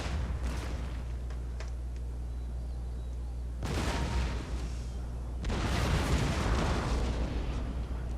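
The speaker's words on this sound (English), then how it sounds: "Tons of cannon fire." Cannon and artillery fire in a video game, a dense continuous rumble of booming shots swelling in two louder bursts, steady and without speech.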